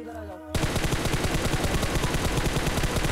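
Rapid automatic gunfire in the mobile battle-royale game PUBG Mobile erupts after a half-second of quiet, a dense, loud, continuous burst of repeated shots that runs to the end.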